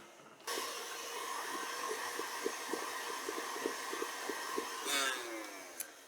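An electric hand mixer beats two eggs into biscotti batter for Greek almond anise paximadakia, whirring steadily and close with a soft rhythmic tapping of beaters against the bowl, then briefly rising in pitch near the end.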